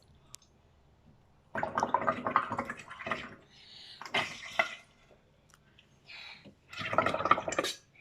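Water is poured from a glass into a container for a children's bubbling experiment, producing bursts of splashing, gurgling liquid in several separate pours with short pauses between, fairly close and loud.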